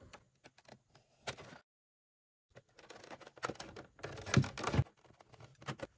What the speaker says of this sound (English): Let's get the tape off the sides.